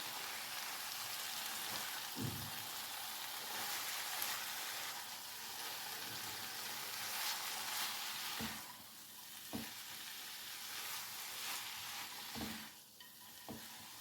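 Fenugreek (methi) leaves cooking in a pan with ginger and garlic for tamatar methi sabzi give a steady close sizzle, broken by several soft knocks and scrapes of stirring; no one speaks.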